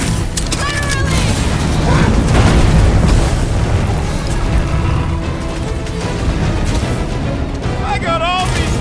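Heavy booms and blasts roll through a fight in the Guardians of the Galaxy game, loud and nearly constant with bursts of impact, as characters shout and talk over the chaos.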